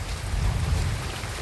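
Heavy rain pours down over a farm field with chili plants in a dense, continuous roar with no pauses.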